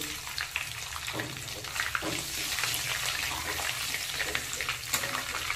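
Cumin seeds and whole garam masala (cinnamon, cloves, mace, cardamom) sizzling in hot oil in a pan while cooking a Bengali chicken and potato curry, a steady crackling fry that runs on evenly at moderate volume with no talking.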